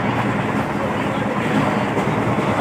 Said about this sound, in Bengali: তবে ট্রেনটা অন্ধকারের মধ্যে চলতে শুরু করলো